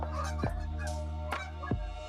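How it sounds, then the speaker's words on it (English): Geese flying south pass overhead, giving a few scattered honks over a steady low hum. "that is geese that's flying south"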